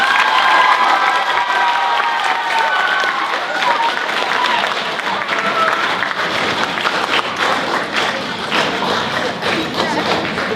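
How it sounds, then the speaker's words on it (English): Sustained applause from an audience at a Poetry Out Loud recitation competition, honouring the contestants; a dense, steady patter of clapping hands fills the room with some crowd murmur underneath. "I would like to give another round of applause to our 13 contestants."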